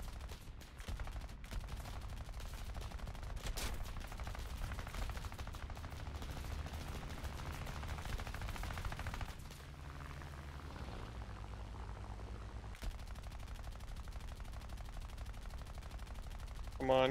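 Gunfire from the guns of a PB4Y-2 Privateer bomber in a flight video game, faint rapid rattling bursts over steady engine drone, running almost continuously with a brief lull partway through.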